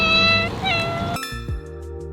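A cat being looked after in a friend's home meows in a couple of close, clear tonal calls, with a short pause between them and no talk over them.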